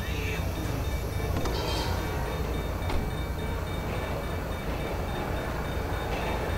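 Train rumbling past in the video game GTA V, a loud continuous rolling roar with faint metallic squeals over it, heard up close.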